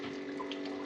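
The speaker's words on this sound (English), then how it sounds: "It's so nice being able to just turn this on and off and have like a faucet right now" Water runs steadily from a simple faucet setup in an off-grid remote Alaska cabin, a continuous close splashing stream without pause.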